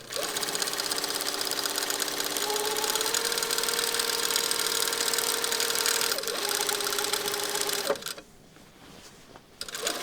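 Sewing machine stay stitching 5 mm along the hem of a shirt: a steady, close, continuous mechanical whirr that runs for about eight seconds, then stops, leaving quiet room tone, with no talking.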